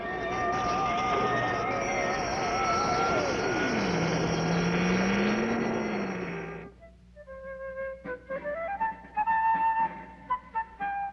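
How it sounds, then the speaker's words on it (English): Cartoon spacecraft motors reversing for a landing: a loud, sustained engine whine sweeps downward in pitch and settles low, then cuts off into a sparse, tinkling musical passage. "Reverse motors, Professor. Prepare for landing."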